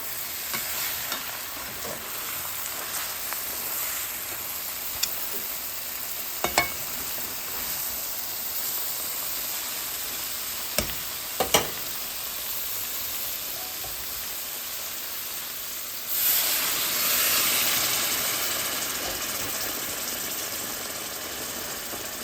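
Mutton pieces frying in a pan for curry give a steady, dense sizzle, broken by a few sharp clicks of stirring and a louder burst of hissing near the end.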